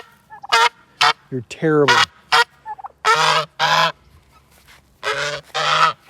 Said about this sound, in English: It's the most annoying bird on the yard.